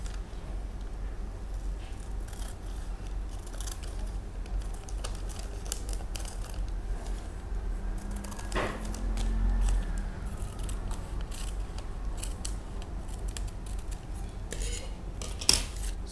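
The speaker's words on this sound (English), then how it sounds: "So I will just cut this part that is on the fold here." Scissors snip through folded skirt fabric at a sewing table. The cutting is faint and intermittent, with a short louder crunch near the middle and a sharp click near the end, and no speech.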